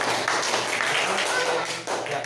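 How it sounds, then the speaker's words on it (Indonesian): A school group in a classroom or small hall receives applause: dense, continuous clapping from many hands, close and fairly loud, with a brief dip near the end. "Tepuk tangan buat kelompok sekolah."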